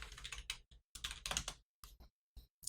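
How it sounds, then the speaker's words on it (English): Keys clack on a computer keyboard in quick bursts of typing separated by short pauses, close and crisp with no voices, as a root login command and password are entered on a Linux machine. "you're going to type in sudo-i, type in your password"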